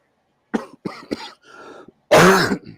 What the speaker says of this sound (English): this cough won't go away